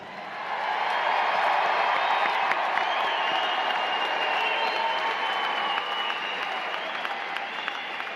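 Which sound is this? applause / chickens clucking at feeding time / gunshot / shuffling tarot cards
applause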